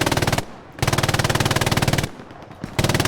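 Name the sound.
machine gun battle in a video game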